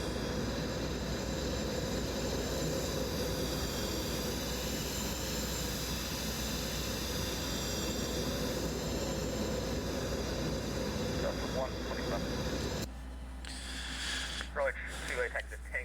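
A Legacy 650 business jet in the X-Plane 11 flight simulator makes a flyby: a loud, steady, close turbine roar with a high whine holds for about thirteen seconds, then cuts off abruptly to quieter background sound.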